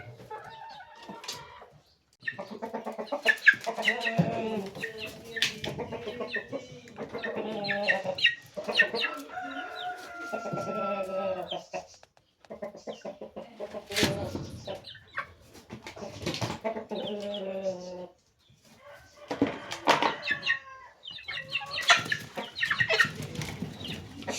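A backyard Kienyeji hen clucks over and over near her chicks, with soft peeping in between. The bursts come in an uneven rhythm, close and fairly loud, with no talk.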